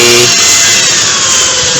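A loud, steady electric drill whirs continuously at close range while mixing roof waterproofing compound, its pitch shifting slightly as it churns.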